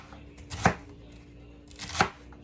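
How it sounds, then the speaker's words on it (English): A sharp knife chops celery on a cutting board, giving two distinct, close, solid thuds about a second and a half apart over a quiet background, with no talking. "Gonna cut up a little veggies, get my celery ready."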